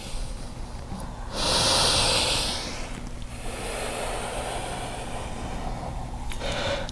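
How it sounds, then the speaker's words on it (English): Deep centering breaths during a yoga flow, a strong, close, hissing inhale followed by long, softer exhales, calm and unhurried with no speech. "Complete breaths in and complete breaths out."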